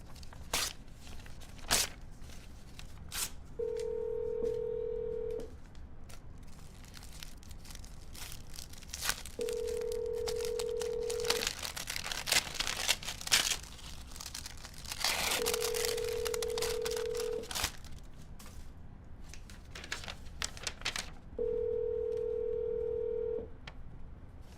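A telephone redialing an automated voice messaging line, with four evenly spaced ringback tones, each about two seconds long, between clicks, rustling and faint handling noises, with no speech.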